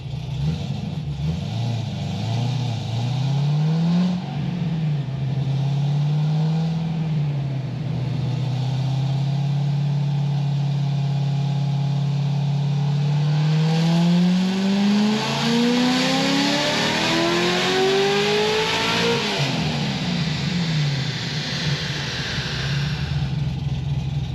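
Supercharged Corvette C6 Z06 V8 revving hard at full power, loud and close, with rising and falling engine pitch, a long sustained high-rev pull and a climbing sweep before settling back to idle.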